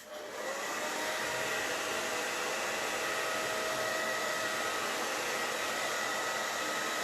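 A hair dryer running steadily, a loud continuous whooshing hum from start to finish.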